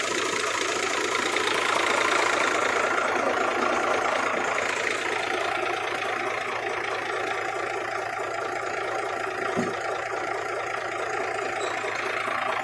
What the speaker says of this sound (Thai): เสียงเงียบมากนี่ติดเครื่องแล้วครับ เสียงนุ่มมาก